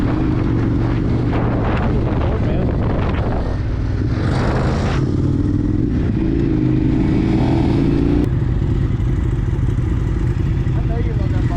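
A Ducati 848 sport motorcycle is ridden at a steady cruise, its engine drone running continuously under heavy wind buffeting, with a brief swell of engine roar near the middle and a rider's voice talking over it.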